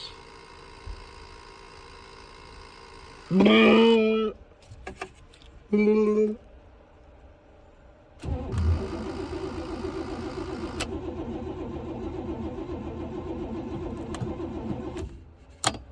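A 1969 Buick Special Deluxe engine cranks in two short, loud bursts that fail to catch, then cranks again in a long, steady grinding run as it struggles to start.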